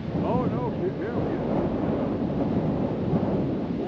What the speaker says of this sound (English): Little gust picked it up.